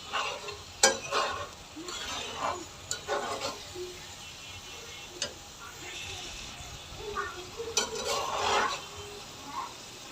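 Stirring and sizzling chopped tomatoes with spices in a pan, with scraping strokes and soft frying hiss, a few clinks along the way.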